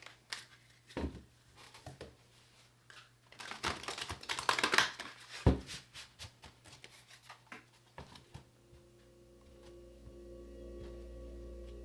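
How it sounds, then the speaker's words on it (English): Tarot cards are shuffled close by in a run of crisp, papery riffles and taps that swell into a dense flurry midway, then give way to a quiet stretch with a low steady hum. "Let's get one more shuffle."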